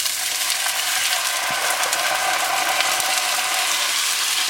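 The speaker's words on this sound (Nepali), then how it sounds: "यसरी तेजपत्ता अलिकति डढिसकेपछि हामी भिजेको चामल हाल्दै छौं।" Soaked rice hisses and sizzles loudly in hot oil with lightly scorched bay leaves and cardamom for pilau rice, a dense, steady close frying sound without talk.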